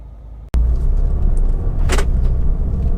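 Mini Cooper S 1.6 hatchback, 2008: a sharp door thunk, then the cabin fills with a loud, steady engine and road rumble with a brief mechanical whir.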